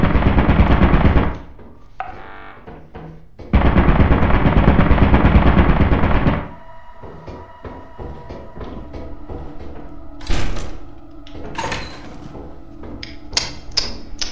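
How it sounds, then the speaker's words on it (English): A turret in Lethal Company fires two long, loud bursts of rapid machine-gun shots, separated by a short pause, followed by quieter clanks and scattered game noises. "turret!"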